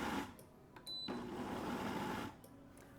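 A Cuisinart soup maker's stir function whirs in short bursts, a quiet motor hum starting and stopping twice as it mixes sauteing onions, garlic and olive oil, with light clicks between runs.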